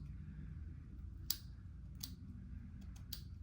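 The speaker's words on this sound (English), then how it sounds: "Now we're just gonna cut some of this lace off here." Scissors snipping lace off a glueless wig, a few sharp, crisp cuts spaced apart over a low steady background hum, close and fairly faint.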